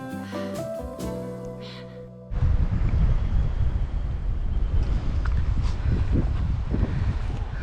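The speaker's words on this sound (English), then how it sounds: "Whew, that wind feels good." Steady, loud wind buffets the microphone on a mountain trail over the Pyrenees near Roncesvalles, starting abruptly after a brief stretch of music-like tones and then roaring continuously and close with no talk.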